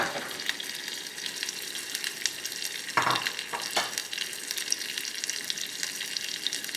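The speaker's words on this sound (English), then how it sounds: "Over here I have my butter melting." Butter melts in a pan with a steady, close frying sizzle, briefly broken by a few scraping or stirring sounds midway.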